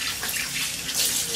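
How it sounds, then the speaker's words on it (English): Water poured over a puppy during a bath, a steady close splashing rush of running water filling the brief moment without any voices. "Just put some water on there and"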